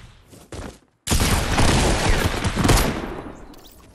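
A double-barrel shotgun fires in the video game Fortnite: two sharp, close blasts, then a brief gap and a long, loud volley of gunfire that slowly fades.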